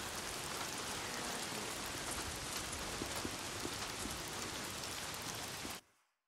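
Heavy rain pours in the video game Days Gone, a dense, loud, unbroken hiss of falling water that runs steadily, then cuts off abruptly just before the end.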